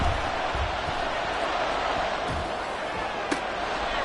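A home crowd roars throughout a Kansas City Chiefs football game on a third-down play: a loud, steady stadium din with commentators talking over it.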